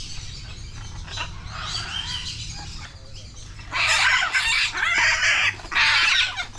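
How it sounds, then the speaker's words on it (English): Chickens and other fowl at a bird sanctuary in Colombia squabbling, with loud clucking and squawking bursts that grow frantic in the second half over a steady background of birdsong. "Like a bird fighting here."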